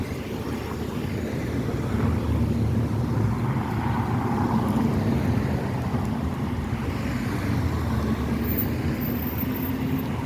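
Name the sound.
car traffic congestion at Jackson Square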